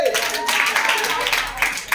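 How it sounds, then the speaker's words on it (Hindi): A classroom of students claps together in a brisk, bright patter of quick hand claps lasting a couple of seconds, with a voice briefly audible at the start. "ताली बजाओ इसके लिए"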